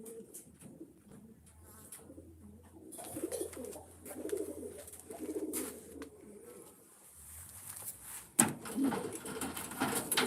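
Racing pigeons cooing in a loft during basketing, repeated soft throaty coos from several birds close by, with scattered rustling and knocks.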